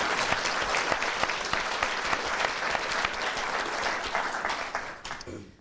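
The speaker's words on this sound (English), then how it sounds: "perhaps we could just give them all a round of applause again" A lecture audience breaks into dense, lively applause for the speakers, many hands clapping together at a steady level before the sound fades out over the last second.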